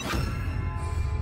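A levitation spell cast in Hogwarts Legacy rings out as a bright, short metallic chime, then a sustained low hum lingers under it, close and steady with no talking.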